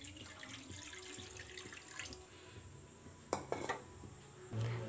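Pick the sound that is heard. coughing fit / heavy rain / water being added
water being added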